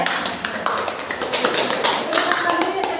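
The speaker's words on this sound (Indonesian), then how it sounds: "kita berikan tepuk salut" An audience claps a rhythmic salute in a hall, quick sharp claps in a patterned beat, fairly loud and close, with voices faintly mixed in.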